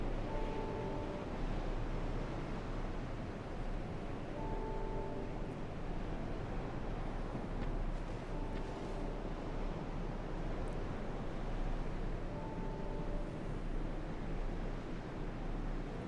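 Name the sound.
ocean waves in the video game Dark Souls 2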